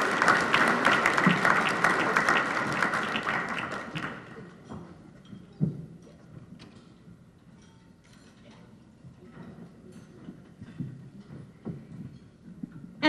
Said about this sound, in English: let's give Town Bank a round of applause.